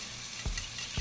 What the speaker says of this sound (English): we're going to let that sizzle there